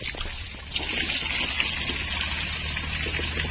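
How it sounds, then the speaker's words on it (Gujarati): Water runs in a steady, close stream, splashing continuously from start to finish with no talking. "ગાઈસ આ જુઓ પાણી ચાલુ રાખ્યું"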